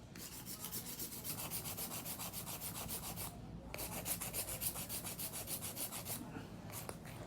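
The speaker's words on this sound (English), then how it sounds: "That's the importance of hand filing." Steady rhythmic strokes of a hand file rasping across an acrylic nail, close and continuous with brief pauses, no talking.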